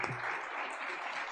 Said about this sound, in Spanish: pido por favor un fuerte aplauso por eso.